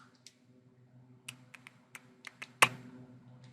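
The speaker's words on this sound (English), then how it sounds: "Why am I typing Cam York?" Fingers type on a computer keyboard with a sparse, uneven run of close key taps, ending in one sharper, louder keystroke over a low background hum, with no talk.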